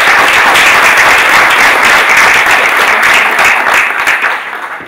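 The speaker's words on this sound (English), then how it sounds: "I think we should give them a round of applause for making it." A large audience at a Class of 2023 physician's oath graduation ceremony applauds, dense loud clapping that fills the hall and holds steady before tapering off at the end.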